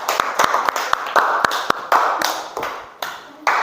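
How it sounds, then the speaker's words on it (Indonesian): A classroom group claps for group 1 after their presentation, a run of sharp, uneven handclaps spread across the room at close range, with a few quick bursts and some faint background talk. "berikan tepuk tangan untuk kelompok 1"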